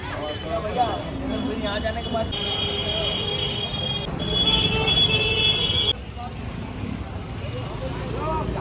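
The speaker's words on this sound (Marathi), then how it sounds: "चला आम्ही चाललेलो आहोत आता रिक्षात बसून." Riding in an auto-rickshaw through Ujjain traffic, a continuous engine drone and road noise fill the cabin, with passing vehicles and occasional horn toots, while people talk nearby.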